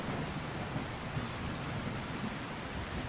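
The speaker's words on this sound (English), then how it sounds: "Another day of rain in Skyrim." Steady, dense rain with low rolling thunder in the fantasy video game Skyrim, a constant even hiss over a deep rumble with no voices.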